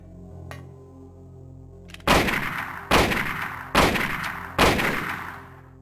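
Four loud, booming gunshots from the Silent Hill video game fire at a steady pace about a second apart, each with a long echoing tail, after a quiet low hum.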